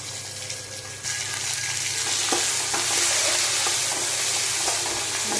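Onions, green chillies and mint fry together in a pan for bagara rice, a loud steady sizzle that swells after the first second, with occasional stirring clinks.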